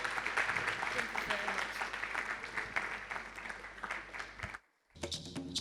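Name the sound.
audience applause for conference panelists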